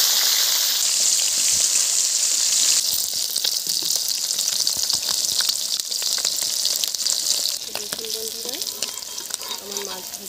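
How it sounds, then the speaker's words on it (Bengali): Silver carp pieces frying in hot oil in a wok over a wood-fired clay stove, a loud steady sizzle that thins out midway, with occasional stirring clinks and no talking. "আমার মাছ ভাজা হয়ে গেছে।"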